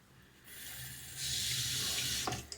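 Cold tap water runs steadily into a sink, a continuous close splashing hiss that swells louder partway through and carries on alone with no voices.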